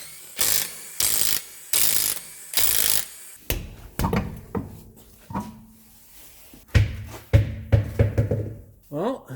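A ratchet with a 19 mm socket works loose the wheel nuts on a 2011 Subaru Legacy. Several loud, close clicking bursts come in a regular rhythm, followed by knocks, clatter and more ratcheting, with a voice speaking over it.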